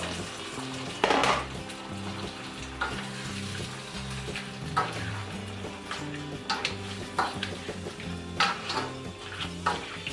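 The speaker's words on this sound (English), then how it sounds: "I'm just going to go ahead and add in my shrimp." Shrimp sizzle in a pan with garlic and spices for spicy garlic shrimp, a steady crackling hiss broken by sharp clinks and scrapes of utensils against the pan.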